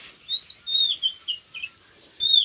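A small bird sings in a village garden in the morning, giving a series of sweet, high chirps in short bursts with brief pauses between, clear and fairly close, with no talking.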